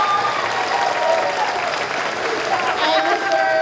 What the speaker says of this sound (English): Let's give another round of applause for Miss Sunny the Strings.